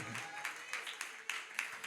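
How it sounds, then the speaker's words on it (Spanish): A church congregation claps along in praise, a quick and fairly faint run of hand claps, sparse and rhythmic, heard from a distance. "Dale palmas de alabanza al Cristo de la gloria."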